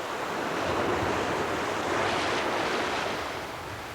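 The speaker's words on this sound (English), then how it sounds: "gentle fair weather waves build up the beaches while the storm waves flatten the beaches" Ocean waves wash steadily onto a beach in fair weather, a continuous broad roar of surf and spray with a slight swell in the middle and wind noise on the microphone, no voices.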